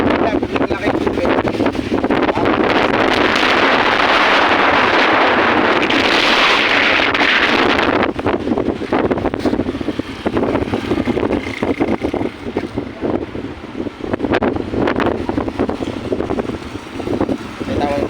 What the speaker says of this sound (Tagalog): Ngayon, malakas bagyong Juan.